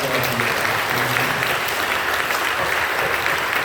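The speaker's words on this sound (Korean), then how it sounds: "격려하며 박수 한번 해주시고" Church congregation applauding during a Korean youth-ministry worship service, a steady dense wash of clapping from many hands that fills the space evenly and continues without a break.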